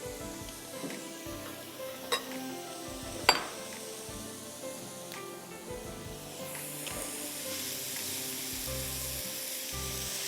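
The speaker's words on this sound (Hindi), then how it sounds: "पहले आप इसको अच्छी तरह घी में सौटे करिए।" Grated carrots sautéing in ghee for gajar ka halwa give a steady, close sizzle and crackle throughout, with a few sharp clinks of a utensil against the pan.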